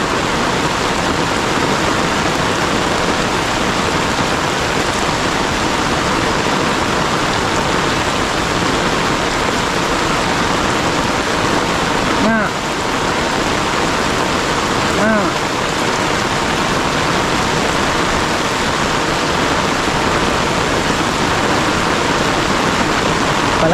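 Heavy mountain rain roars in a continuous loud wash, joined by a rushing sound like running water. Two brief soft sounds break through near the middle, and a single short word is spoken.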